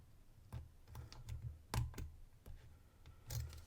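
An antique cast-body Yale & Towne padlock is being picked, giving faint, sparse, irregular small clicks and taps up close in a quiet room.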